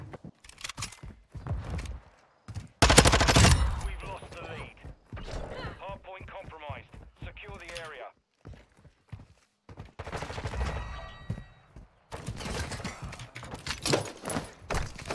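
Gunfire in a ranked duo match of an online shooter game, with bursts of shots coming loud and close among clicks and movement sounds, and someone talking over parts of it.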